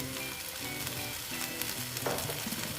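Ghee sizzling in a banana flower curry, a dense continuous close frying hiss with faint pan clatter, no voices.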